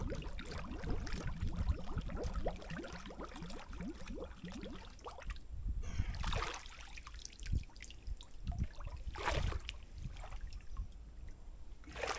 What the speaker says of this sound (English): I figured out it takes two of these to flush a toilet.